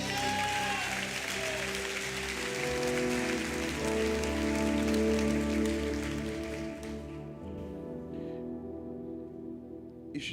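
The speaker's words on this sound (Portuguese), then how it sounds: "Aplaude a Jesus." A church congregation claps steadily for several seconds, a dense patter of applause that fades out toward the end.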